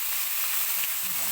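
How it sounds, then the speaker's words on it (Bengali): Pieces of chicken hit hot cooking oil in a pan and set off a loud, dense, continuous sizzle that holds at full strength throughout. "এখন তেলটা দিয়ে দিচ্ছি, এখন মাংসটা কিন্তু ছেড়ে দিচ্ছি"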